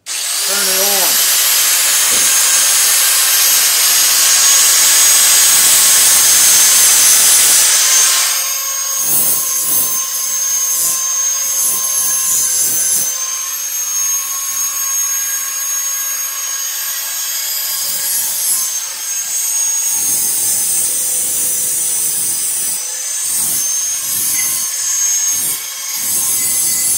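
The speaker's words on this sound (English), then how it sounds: "Don't ever get a shop series angle grinder. These things suck." A shop series angle grinder whines steadily while grinding the steel head of a carpenter's hatchet, first a loud harsh rush, then a lighter high whine with intermittent scraping contact.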